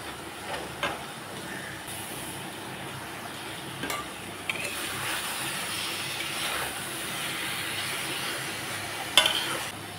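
Fish pieces are added to potatoes and spices frying in oil, making a steady hiss of sizzling with a few sharp clatters and scrapes from stirring.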